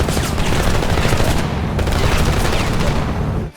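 Sustained video game gunfire in a war game, a dense continuous fusillade of overlapping shots with booms, loud and unbroken for over three seconds before cutting off abruptly at the end.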